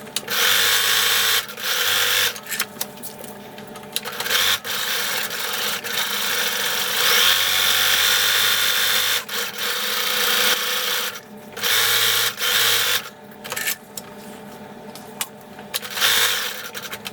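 A sewing machine stitches the sides of a fabric bow tie in a steady, loud whirring hum, stopping and starting several times in short bursts, with no voices.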